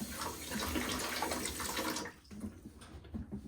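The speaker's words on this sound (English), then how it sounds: "I like to just take the old water line and just run a little bit of water through it" Water flushes through an old toilet supply line with calcium buildup during a fill valve replacement: a steady, close rushing stream for about two seconds that cuts off, leaving faint residual trickles.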